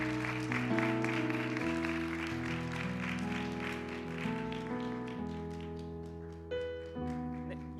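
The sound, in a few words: applause welcoming new church members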